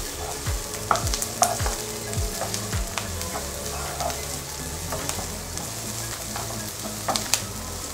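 Shallots and onions for crab stick popiah filling sauté in a hot pan, a steady soft sizzle with repeated scraping stirs of a spatula, close and fairly quiet with no talking.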